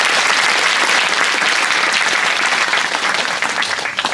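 Loud, close applause from a crowd gathered at a Bhagavat Katha religious discourse, many hands clapping in welcome in a dense continuous burst that tapers slightly at the end.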